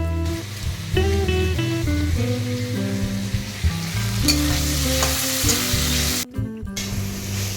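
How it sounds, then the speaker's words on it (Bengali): Shrimp fry in a pan with a constant crackling sizzle that runs throughout, heard up close under loud tonal music. "এদিকে দেখো একটু চিংড়ি মাছ ভেজে নিচ্ছিলাম"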